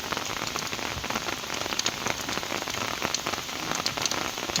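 Steady rain pattering on a surface outdoors near a fish trap by the water, a dense close patter of drops that continues without pause and with no talking.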